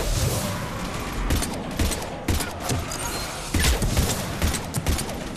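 Mass Effect 3 combat plays out as a dense fusillade of game gunfire, with rapid cracks and booms overlapping in bursts throughout, and voices talking beneath the shooting.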